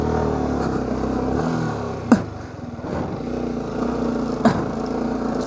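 A motorcycle engine revs and labors steadily as its wheel skids on a rough, rutted dirt trail, with a couple of sharp clattering knocks breaking through the continuous drone.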